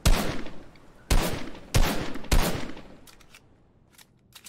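Gunfire in the Fortnite video game: four sharp, loud shots spaced roughly half a second apart, each with a booming tail, followed by fainter distant pops.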